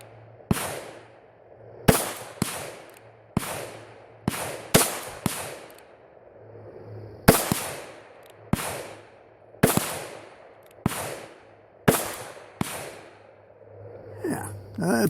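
Around a dozen separate .38 Special pistol shots loaded with 2.9 grains of Clay Dot shotshell powder behind a light bullet, each a sharp loud crack with a short ringing decay, fired at irregular intervals one to two seconds apart.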